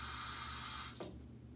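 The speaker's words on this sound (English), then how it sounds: "you simply rinse it off" Tap water runs steadily over a shaving lather bowl being rinsed in a sink, a close hiss that cuts off suddenly near the end, leaving quieter dripping.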